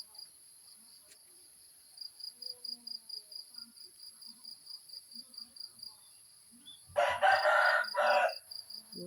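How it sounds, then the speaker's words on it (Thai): A village rooster lets out one loud, close crow near the end, after a long stretch of steady chirping crickets and quiet rural background. "โอ้ไก่ตัวนี้ขันดีขนาด"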